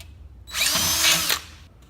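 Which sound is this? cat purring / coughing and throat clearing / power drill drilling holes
power drill drilling holes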